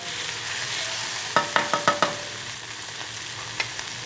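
Ingredients for green chutney with coriander fry in oil, a soft steady sizzle under a quick run of five sharp utensil taps against the pan, then a lone later clink.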